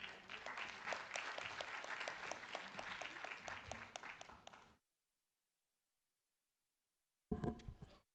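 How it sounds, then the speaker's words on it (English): Audience at a national climate governance summit applauding a keynote speaker, a crisp burst of many hands clapping for several seconds, then a pause before a short, loud final flurry. "Please give him a warm round of applause."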